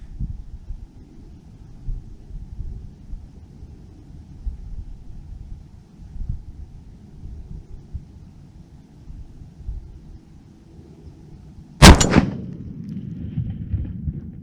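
A single sharp, powerful report from a .50-caliber rifle being zeroed outdoors, a loud crack with a booming tail, following a long stretch of quiet wind and faint background rumble.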